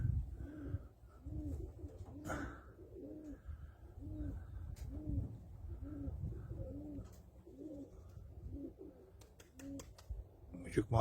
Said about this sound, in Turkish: Evet sevgili dostlar yavaş yavaş kuşlarımız iniyorlar.